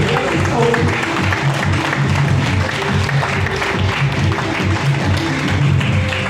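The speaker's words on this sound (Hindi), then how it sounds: "एक बार जगदीश साहू जी के लिए जोरदार ताली होनी चाहिए" Audience applause for Jagdish Sahu, sustained dense clapping from a crowd continuing over several seconds with murmuring voices underneath.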